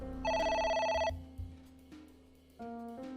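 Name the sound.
telephone ringing in the video game AI: The Somnium Files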